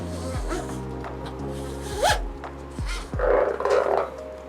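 A ratchet strap is pulled through the mounting points of a ute tray dog box, giving zipping, rasping slides of webbing in several short strokes up close, plus soft scuffs and knocks.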